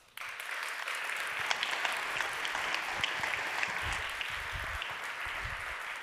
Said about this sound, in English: Let's give him a big round of applause and make him feel welcome.